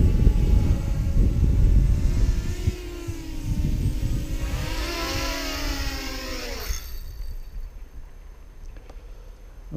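A QAV 250 Nighthawk quadcopter on a 3S battery with its brushless motors whining and revving up and down as it flies, the pitch sweeping past before fading to a faint distant hum.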